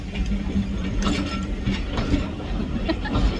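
A steam train departs Kingsley and Froghall railway station with rhythmic clanking and ratcheting of wheels over track, a steady mechanical rumble with metallic clicks throughout.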